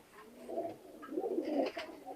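Pakistani high-flying pigeons give soft, close coos, a few quiet rolling calls in quick succession with no talking over them.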